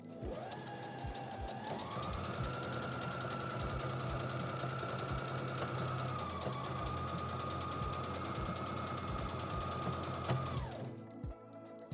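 A manual home sewing machine stitches a buttonhole, its needle running in a fast, steady mechanical chatter with a whining motor tone that rises and holds, close and continuous before stopping abruptly.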